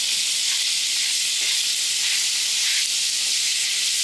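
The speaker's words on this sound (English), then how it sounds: "while the meat and the onion and pepper are in the pan still getting brown" Crumbled sausage meat with onion and red pepper fries in a pan, giving a loud, steady, close-up sizzle and hiss that continues unbroken with no talking.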